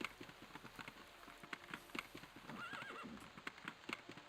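Horse hooves clip-clopping in the video game Daggerfall, a steady rhythmic trot of hoofbeats with a faint whinny, soft and even, with light rain-like hiss behind.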